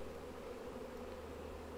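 Honeybees hum low and continuously around Flow Hive brood frames during a hive inspection, a steady close buzz with no voices.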